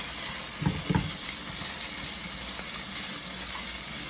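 Ginger garlic paste frying in a pan for spicy Nepali-style tofu, a steady close hiss of sizzling oil with a couple of low stirring scrapes early on, no talking.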